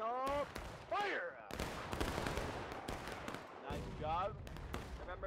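Musket volleys crack out in War of Rights, a Civil War battle game, as dense overlapping shots with shouted commands between them, the voices rising and falling over the gunfire.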